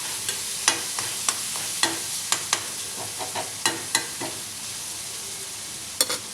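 Garlic sautéing and being stirred in a pan, a steady soft sizzle punctuated by sharp scraping clicks of a spoon against the pan at irregular intervals, close and alone with no talk.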